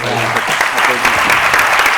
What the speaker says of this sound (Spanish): que vamos a dar las gracias de la forma que lo podemos hacer aquí, que es con este fuerte aplauso